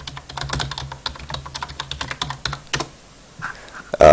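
Rapid keystrokes on a computer keyboard as commands are typed to set up a disk partition for a Windows 7 install from USB, a steady close clatter of many taps with brief pauses, ending in a louder click.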